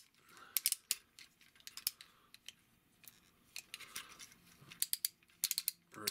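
Plastic parts of a Transformers Seaspray toy click and snap sharply while being folded during transformation, a quick irregular series of close, light ratcheting clicks in a quiet room.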